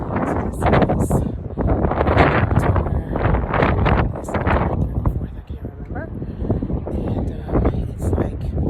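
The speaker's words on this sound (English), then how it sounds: "it's so windy" Strong wind buffets the microphone on Chapman's Peak in Cape Town, a loud continuous roar with gusts throughout, while a person talks over it.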